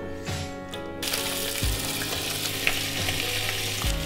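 Bacon and eggs frying in butter in a pan, with a steady close sizzle, occasional clinks and stirring, and running water in the background.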